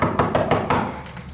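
A loud, insistent run of knocks hits a house's front door, about five heavy raps in quick even rhythm, close and booming, followed by a couple of fainter taps.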